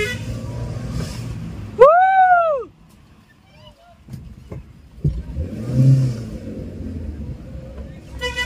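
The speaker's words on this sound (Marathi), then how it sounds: "त्या गाडीला ओव्हरटेक केला मस्त पैकी।" A car's engine revs up hard as it pulls out to overtake another vehicle on the road. A rising and falling whine cuts in early, followed by a quiet lull, and then road and engine noise returns with a few thumps.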